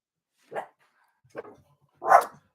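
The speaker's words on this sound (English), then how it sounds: "Oh, this damn dog." A dog barks indoors, three separate barks over about two seconds: a short one, a softer one, then a louder final bark, with no talking.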